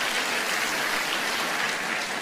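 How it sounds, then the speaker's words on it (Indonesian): Dense, sustained applause from a church congregation fills the space with continuous, even clapping at steady loudness throughout. "Tepuk tangan buat jemaat yang luar biasa."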